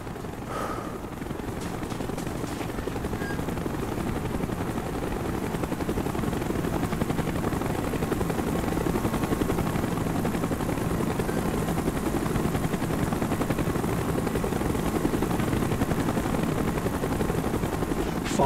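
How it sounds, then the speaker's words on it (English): Helicopter in flight in Call of Duty: Black Ops: a loud, continuous rotor drone with throbbing low chop that holds steady and slightly swells throughout, a brief crack near the start. "Chopper's inbound."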